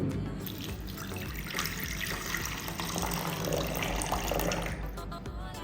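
Hot water poured over tamarind in a bowl, a continuous splashing pour lasting several seconds, close and fairly loud, with no speech.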